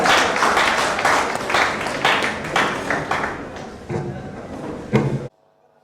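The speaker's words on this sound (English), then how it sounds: "Please, a round of applause for him while he makes his way to the podium." An audience at a Nigerian Institute of Town Planners program applauds steadily for about five seconds, a dense wash of many hands clapping nearby, which swells slightly before stopping abruptly.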